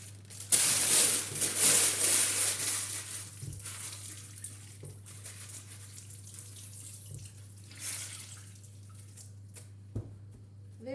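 Tap water runs steadily from a faucet to wet parchment paper in a kitchen, loud and close at first, then quieter with a few drips and clicks over a low background hum.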